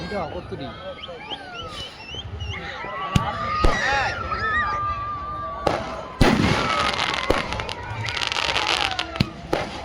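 Firecrackers go off at a New Year celebration: sharp, loud bangs and crackling bursts, some close and some farther off, with whistling rockets and lively voices chattering throughout.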